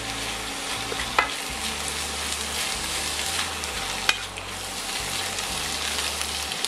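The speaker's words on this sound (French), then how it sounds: "on va insister un peu, on va bien sécher le chou. Et si on arrive à le faire griller un petit peu, tant mieux" Sauerkraut cabbage fries in a pan with a dense, steady sizzle, close and loud, while a utensil stirs it and gives a couple of sharp knocks against the pan.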